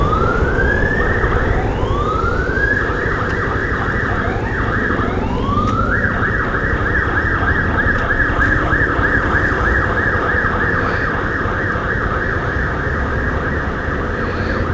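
Rapid warbling siren tones, preceded by a few rising whoops, repeat steadily over a busy road's rumble, loud and close for the whole stretch with no voices.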